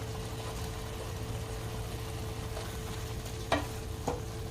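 Fried vegetables are stirred into a simmering mixed-vegetable sabji with kasuri methi in a pan, giving a low continuous sizzle with a steady hum beneath it and a couple of sharper scraping knocks near the end.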